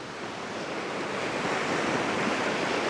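A fast, swollen Montana river rushes in a steady, dense roar of whitewater, loud and close, building slightly, with no voices.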